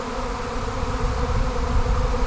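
A swarm of honey bees buzzes continuously during a capture. The loud, dense drone holds steady throughout, with no voices.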